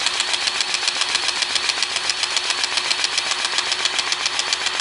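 A Milwaukee M18 cordless two-speed grease gun (2646-21CT) pumps grease on high speed, a steady rapid mechanical pulsing with a fast regular rhythm, close and fairly loud, with no talking.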